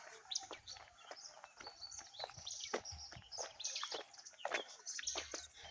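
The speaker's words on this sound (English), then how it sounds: "Trees with the birds singing melodious songs." Birds chirp and sing among trees in suburban farmland during farming season, with many short, bright calls scattered throughout at moderate distance over a soft outdoor background.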